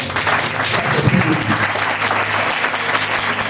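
A church congregation applauds to acclaim Jesus, a dense, sustained clapping from many hands filling the room, with a few voices mixed in beneath the applause.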